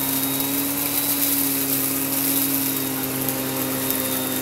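A vacuum cleaner runs with a steady, close motor whine while sucking up scattered rice from the floor, alone and without talk.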